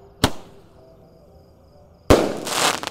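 Firecrackers and an 8-shot fireworks cake go off on a Ramadan night. One sharp loud bang comes first, then after a lull a second blast with crackling bursts and rushing noise close by.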